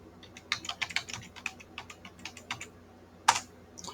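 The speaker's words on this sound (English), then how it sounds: "We'll enter the password here." Someone types a password at a computer keyboard, giving a quick run of close, crisp key clicks with brief pauses and a sharper tap near the end, in a quiet room without talk.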